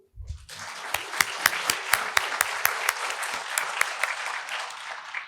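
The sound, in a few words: applause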